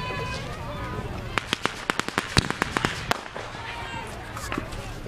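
Fireworks and firecrackers are set off at a park: a rapid string of sharp cracking pops in the middle, fairly close, with voices and background chatter around them.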